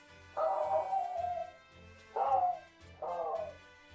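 A dog whimpering and yelping in three drawn-out, falling cries, loud and close, with short pauses between them.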